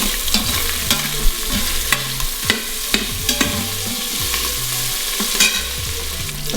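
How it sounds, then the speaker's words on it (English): Lardons sizzle loudly in an Instant Pot as a spoon scoops through them. A dense frying crackle runs throughout, broken by scraping strokes and a low intermittent hum. "I'm scooping out my lardon."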